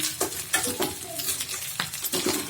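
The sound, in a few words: frying spices and ginger paste in a pan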